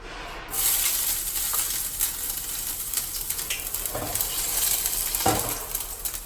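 Ginger sizzles in a hot pan, a continuous soft frying hiss with a few scraping stirs and metallic taps against the pan, close and moderately loud, with no voices.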